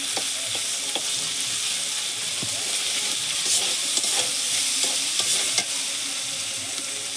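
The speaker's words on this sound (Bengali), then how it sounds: "এবার আদা রসুনটা একটু ভেজে নেবো" Ginger and garlic fry in a pan for a fish curry, a loud, even sizzle and hiss punctuated by frequent stirring scrapes and clicks, heard up close without speech.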